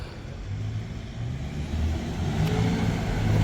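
A car moves along a street in Jerusalem's Old City, its engine a steady low rumble that grows slightly louder over a few seconds, with no talk.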